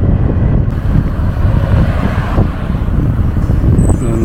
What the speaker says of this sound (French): toujours avec un vent à décorner les bœufs